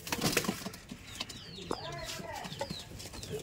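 Rajshahi Giribaj pigeons cooing nearby in a loft, soft repeated coos mixed with a few brief wing flaps and other bird calls, with faint background talk.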